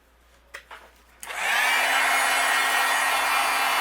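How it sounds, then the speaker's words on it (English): A few small taps, then a heat gun switches on and blows a steady, loud whooshing hiss while melting embossing powder on a greeting card, with a faint motor whine rising beneath it. "I'm going to use my heat gun and we'll melt this."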